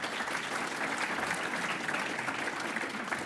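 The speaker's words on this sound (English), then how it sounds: "Maybe a round of applause to get going." A round of applause from an audience at a Calgary Chamber of Commerce event, a continuous dense clapping of many hands, steady and somewhat distant, with no talk over it.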